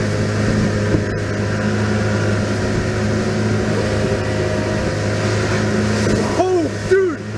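A boat's engine drones steadily and loudly throughout while the vessel is chased by orcas, with a low constant hum that holds until a brief rising, warbling whine near the end.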